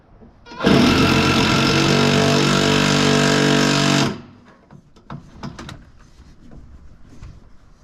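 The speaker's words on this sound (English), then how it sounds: "There is a metal insert in the back side of this clip that we're actually having to drill through" A drill whines loudly and steadily for about three seconds as it bores through a metal insert in a Jeep TJ soft top clip, then stops, leaving faint clicks and handling noises.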